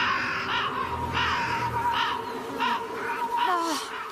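Cartoon raven and its rowdy bird friends cawing and squawking over each other in a loud, continuous chorus of harsh calls.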